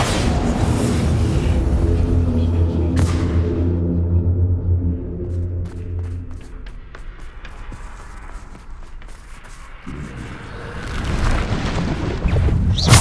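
A Bombarda spell explosion in Hogwarts Legacy on PS5: a loud booming blast with a long low rumble that decays over several seconds, followed by scattered clatter and another swell of rumbling, with no voices.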